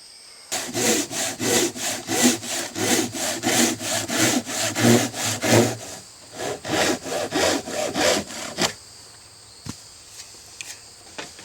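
Wooden boards are hand-sawn to length for a workbench, with steady back-and-forth strokes close up, a pause, then a second run of strokes that trails off into a few faint knocks.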